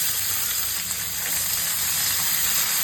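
Chopped onion and tomato frying in hot oil with dry red chilli, bay leaf and panch phoron for khichuri, a dense, continuous close sizzle with no pauses.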